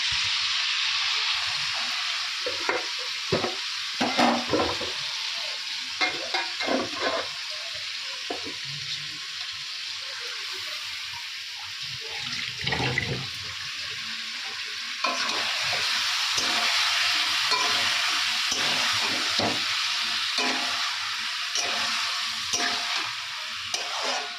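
Chicken and fried potatoes sizzle steadily in a pan, with repeated scraping and clinking from a spoon stirring through them and occasional louder bursts of hiss. No one speaks.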